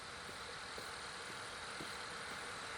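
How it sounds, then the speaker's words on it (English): A steady train engine hum drones on without letup in the video game Nostalgic Train, even and unchanging, with no voices over it. "I hear an engine"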